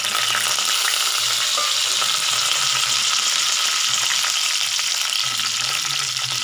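Curry leaves and a torn dried red chili sizzle in hot oil with mustard seeds for Tamil tomato rasam, making a loud, continuous close-up frying hiss with stirring scrapes and no talking.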